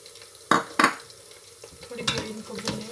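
Onions and chillies tossed into a pan to fry, two sharp metallic clatters followed by a soft low sizzle and light stirring, fairly quiet and close.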